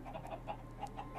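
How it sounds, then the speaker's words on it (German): Short, repeated clucks from chickens in Minecraft, a few evenly spaced notes sounding fairly close over a steady low background hum. "Diese Hühner, ne?"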